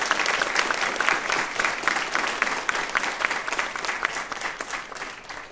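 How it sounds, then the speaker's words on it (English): Audience at a university human trafficking symposium claps steadily and warmly, a dense sustained round of applause filling the room. "Can we give her another round of applause?"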